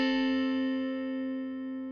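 A single sustained electric guitar double stop rings out clean and steady, slowly fading over about two seconds.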